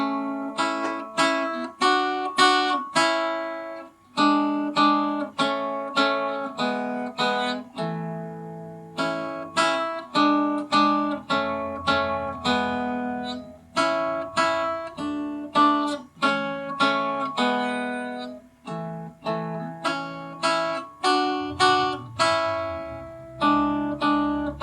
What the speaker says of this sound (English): We're going to be playing melody and harmony at the same time,